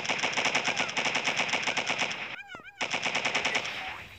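Rapid automatic gunfire in the video game MilkChoco, a fast steady rattle of shots that breaks off briefly for a short whooshing effect, then resumes, loud and close with no talk.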